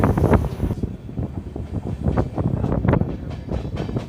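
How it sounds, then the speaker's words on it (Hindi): Kasganj–Aishbagh Express train running past Mala railway station in forest country near Pilibhit, overtaking a Pilibhit–Mailani passenger train: a steady rumbling roll with rhythmic wheel knocks, close and fairly loud, with wind buffeting throughout. "हमारी ट्रेन क्रॉस करने वाली है माला रेलवे स्टेशन को, और ओवरटेक कर रही है पीलीभीत मैलानी पैसेंजर को भी।"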